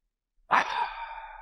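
A single deep breath drawn in and released as a long, soft sigh during a guided new-moon meditation, close and intimate, rising quickly and fading over about a second with no talking.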